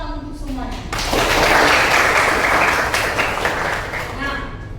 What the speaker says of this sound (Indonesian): coba dulu tepuk tangan untuk semuanya